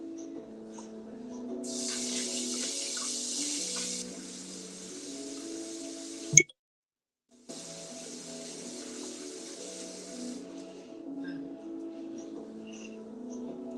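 Running water at a kitchen sink during cleanup, a soft hiss of flow starting and stopping twice around a brief clunk and a short silence, with faint background hum.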